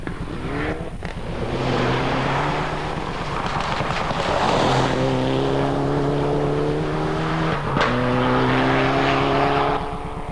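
A Mitsubishi Lancer rally car, badged as a Proton, races on ice at the Gorbatschow Ice Rally, its engine note rising and falling loudly through gear changes as it passes close by, with no talk.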